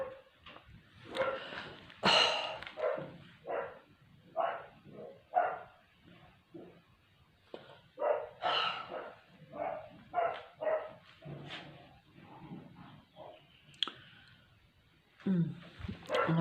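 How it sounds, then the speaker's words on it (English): Several dogs bark outdoors at a distance, a run of irregular barks and yips coming in bursts, fairly faint and mixed with a few softer whimpers. "the dogs are going a bit crazy out there too"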